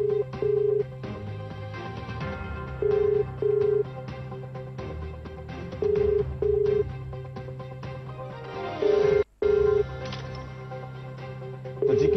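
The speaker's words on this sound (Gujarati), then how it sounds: "રિંગ વાગી રહી છે, તમે સાંભળ્યું, કોઈ ફોન ઉપાડતું નથી" An unanswered phone call to a city mayor's line, with a repeating ringback tone pulsing in pairs over a busy background of music or broadcast sound.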